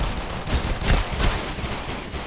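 Rapid gunfire from pistols during a Critical Ops tournament match, a dense burst of shots layered over game noise with no speech.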